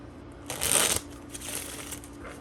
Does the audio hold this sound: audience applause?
no